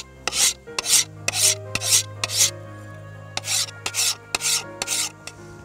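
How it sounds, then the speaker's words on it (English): A steel file rasps along the blade of a bush axe in about a dozen short, even strokes, each stroke loud and close, with brief pauses between them and no voices. "The swing blade can be sharpened as the others were with a file."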